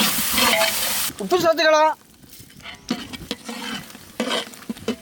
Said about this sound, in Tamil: இதையும் நல்லா அம்மியில் அரைச்சி எண்ணெயில வதக்குறோம்.